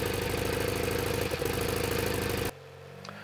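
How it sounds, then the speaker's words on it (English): Rebuilt 1800cc engine in a 1971 VW Super Beetle on its first start, running loud and close with a rough, pulsing idle before cutting out abruptly, leaving a quieter hum. "Eventually, though, the engine starts to cough and finally comes to life."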